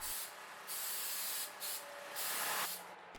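Aerosol can spraying self-etching primer onto slip-on rocker panels for a 2001 Chevrolet Silverado, several close hissing bursts separated by brief gaps, loud and steady with no voices.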